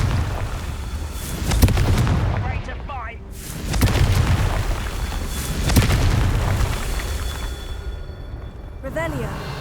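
Confringo blasting-curse explosions from Hogwarts Legacy: three or four loud booming bursts spaced a couple of seconds apart over rumbling game ambience, with voices and spell effects in between.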